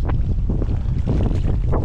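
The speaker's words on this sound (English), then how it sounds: "this wind really makes things so tough, especially from a kayak" Strong wind buffets the microphone during kayak fishing on open water, a constant loud roar with gusting surges and no speech.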